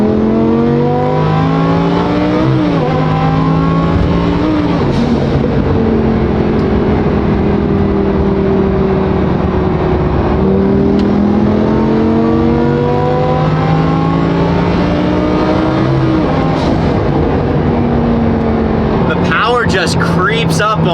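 Twin turbo Lamborghini engine pulling through the gears while driving, loud and close, rising in pitch, dropping at shifts and climbing again, with a brief crackle near the end.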